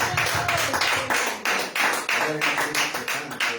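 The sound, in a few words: congregation applause to God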